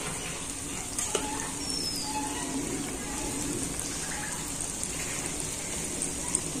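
Snacks made of soaked moong dal and flour fry in oil, giving a dense, even sizzle with small pops throughout at moderate loudness.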